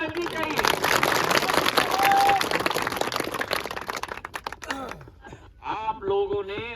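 Applause breaks out among the audience at a public address in Futera, Guna, Madhya Pradesh, with dense clapping for about four seconds that thins into scattered claps as a voice comes back in speech.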